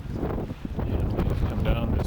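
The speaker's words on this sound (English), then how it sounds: "It is very windy." Strong wind high in the Peruvian Andes buffets the microphone, giving a continuous rough, gusty roar with no break.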